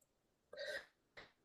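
A person clears their throat: a short, rough, harsh vocal burst followed moments later by a second, briefer one, close and alone.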